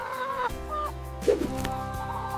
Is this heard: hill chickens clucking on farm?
yes